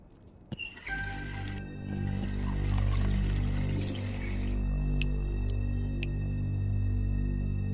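Water poured in a kitchen in the video game The Wolf Among Us: a soft clink, then a steady stream running for several seconds, followed by a few light drips over a low ambient hum.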